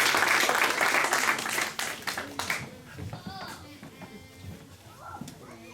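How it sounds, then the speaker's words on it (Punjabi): A church congregation breaks into loud applause, a dense burst of clapping for about two seconds that fades out, followed by someone speaking. "ਉਹ ਤਾੜੀਆਂ ਪਾ ਲਓ।"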